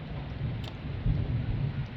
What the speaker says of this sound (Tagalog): Ulan kayo diri sa bukid.